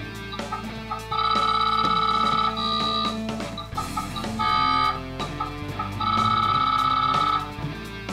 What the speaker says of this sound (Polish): To, co słyszeliście, to jest emulowana stacja dyskietek tutaj z Ultimate'a